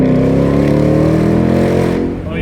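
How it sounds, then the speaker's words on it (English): A Ford Mustang GT350 engine with an engine problem and oil leak roars at wide-open throttle, a loud, deep revving that climbs steadily in pitch before easing off at the end. "So at this point, I floored it. We're talking wide open throttle."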